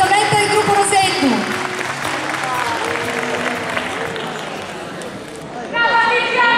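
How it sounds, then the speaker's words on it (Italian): An audience applauds a singer at the Cantu Eu Puru 2015 song event, a dense wash of clapping filling the middle of the stretch while voices ring out before and after it. "Facciamole questo applauso però, pubblico."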